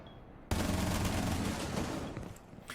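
A burst of gunfire erupts in a Rainbow Six Siege esports playoff match on the Consulate or Border map, with sustained loud automatic shots firing through a wall and a few sharper cracks near the end.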